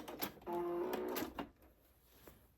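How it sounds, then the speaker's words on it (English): Sewing machine stitching along a fabric edge at 2.5 stitch length, a short faint whirring run of about one second with light clicks, then fading to quiet. "we're just gonna stitch right along this edge"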